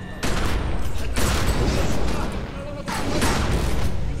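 Loud gunfire in The Secret World, with dense bursts of shots in two long volleys separated by a brief lull, fairly close. Voices mix in with the shooting.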